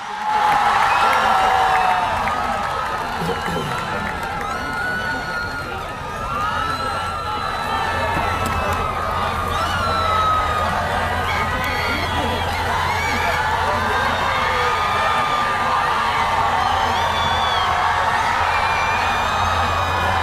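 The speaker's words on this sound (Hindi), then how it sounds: "आपकी भरपूर तालियों में दावत दूंगा चेयरमैन पीआईटीवी साबिक वजीर आजम इमरान खान" A large crowd at a college orientation drive address applauds and cheers steadily, a dense wash of clapping and shouts that holds for the whole stretch, with a low hum beneath.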